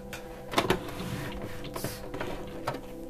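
A domestic sewing machine stitches a gingham apron, short bursts of mechanical whirring and clicking heard up close and fairly quiet, with no talking.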